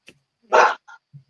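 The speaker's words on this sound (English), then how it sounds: "That dog is not having it." During a dog fight, one loud, close, harsh bark is followed by a brief higher yelp and a few faint short noises, with no talking.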